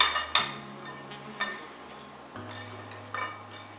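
Fork stirring blueberry pie filling with sugar in a bowl, giving a few light clinks and scrapes against the bowl over a low steady hum, fairly quiet and close.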